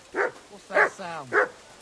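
A dog in the video game Kingdom Come: Deliverance 2 gives three sharp, close barks in quick succession, with a drawn-out whining yelp between the last two.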